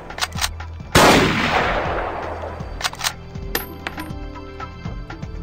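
Gunshots in the shooting game Tactical Assassin 2: a sharp, loud close shot with a long ringing decay, followed by fainter clicks and small mechanical ticks, no talk.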